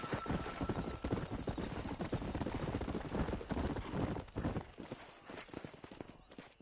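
Horse hooves gallop in a fast, steady clip-clop rhythm while riding in the Western video game Red Dead Redemption, loud and continuous throughout, with a brief whinny early on and no talking.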